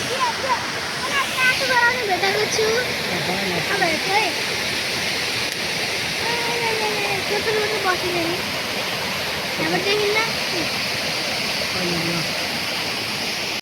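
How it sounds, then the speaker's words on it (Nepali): Clear river water rushing in a broad, steady roar close by, with a voice talking over the flow. "पानी कस्तो सफा बगेको छ।"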